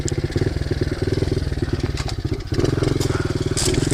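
A pit bike engine idles close by, a loud, rapid, steady putter that dips briefly before settling back into the same even chug.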